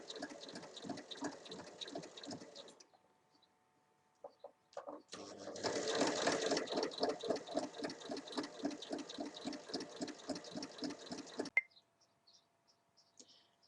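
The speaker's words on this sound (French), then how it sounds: "on l'épingle et on va venir la piquer en piquant sur les 3 côtés" A sewing machine stitches a fabric pouch in quick rhythmic bursts, one short run, a pause with faint handling, then a longer steady run of rapid needle strokes, close and moderately quiet.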